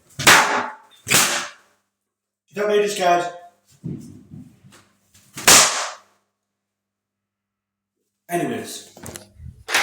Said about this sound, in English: So, the fireworks are okay.